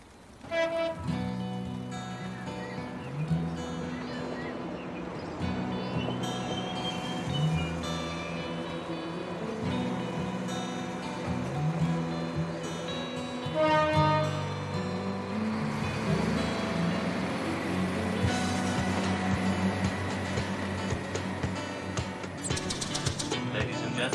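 An Irish train rolls along with a continuous low rumble and rhythmic clatter under varied interior noise, with bursts of louder mechanical sound late on and a passing voice.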